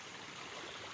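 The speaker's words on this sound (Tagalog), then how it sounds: "Yan, nandito na po tayo sa ilog." River water flows steadily nearby, a continuous broadband rush with no voices heard.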